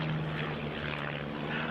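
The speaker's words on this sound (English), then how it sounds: "The Chipmunk was always a super display aeroplane as they come in for a crossover." A de Havilland Chipmunk propeller aircraft at a flying display, its steady engine drone and propeller hum sustained and fairly loud throughout with no talk.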